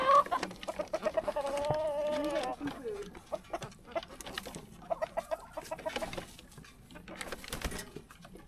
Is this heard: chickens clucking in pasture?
yes